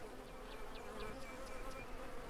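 Bees circle a hive in the farming video game Farmer's Dynasty, giving off a soft, steady buzzing drone with faint rising whines as individual insects pass by, quiet and continuous throughout.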